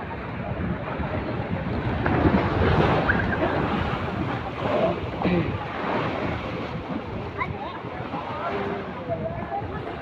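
Ocean surf washing onto a beach at high tide in Quezon, a steady broadband roar of breaking waves with gusty wind buffeting the microphone throughout.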